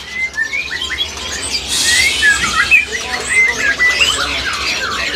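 An adult black-tailed white-rumped shama sings at a crowded bird kiosk, its clear whistled phrases and rapid chirps repeating steadily over a busy, murmuring background.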